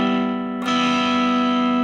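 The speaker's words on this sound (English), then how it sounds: "I'm going to flip the distortion on, and I'm going to turn the gain way down" A sustained electric guitar note played through distortion with the gain turned way down rings out with a mild, gritty edge, swelling slightly as a fresh attack hits partway through.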